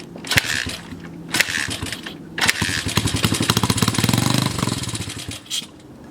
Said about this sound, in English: so it runs on the brake clean, but it will not run on its own fuel